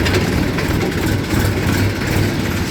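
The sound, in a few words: tractor engine running in third gear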